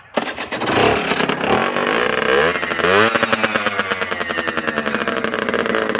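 An Aprilia motorcycle engine runs loud and close, its revs rising and falling through several throttle blips before settling into a fast, steady pulsing beat, with no one talking.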